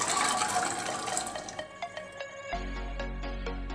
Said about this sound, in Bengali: দিয়ে দেবো চানা ডাল আর জল পরিমাণ মতো